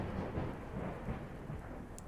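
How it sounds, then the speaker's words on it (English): Low rolling thunder rumbles steadily through a rainstorm, with rain hissing beneath it. The sound stays continuous and fairly close, with no voices. "It's alright, sweetie. It's just the thunder."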